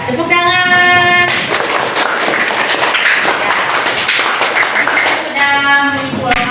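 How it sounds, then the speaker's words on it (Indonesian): Schoolchildren in a classroom clap their hands together after a lesson, a loud burst of rapid clapping between short stretches of a teacher speaking at the start and end. "tepuk tangan"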